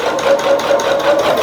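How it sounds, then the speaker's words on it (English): A sewing machine back stitches across the seams of a rag quilt, a fast, steady mechanical whir with quick rhythmic pulses, loud and close, no talking. "as I get to the seams, I can flatten them just like when we do the rows and back stitch there as well."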